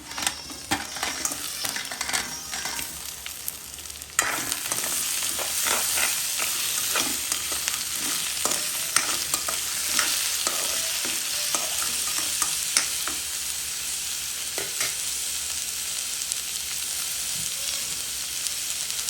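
Crab pieces frying with sautéed onions in a hot pan, a loud, dense, steady sizzle that jumps up when the crab goes in, with repeated spatula scrapes and clinks throughout.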